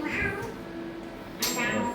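A cat meows a couple of times, close by, in a Carpathian mountain chalet, with some background noise and a brief voice-like murmur.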